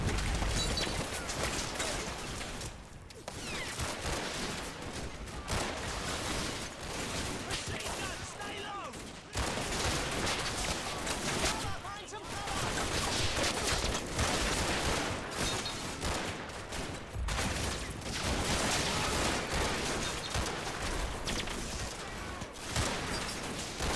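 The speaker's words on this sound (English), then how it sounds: "That's a lot of MP40 fire." MP40 submachine guns fire in a WWII video game battle, loud bursts and rattling volleys clustering with brief lulls, mixed with other gunfire and crashes, with someone talking over parts of it.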